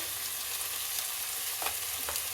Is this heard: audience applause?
no